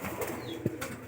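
Pigeons kept in a coop give a brief low coo amid soft ambient rustling, faint and close, lasting only a moment.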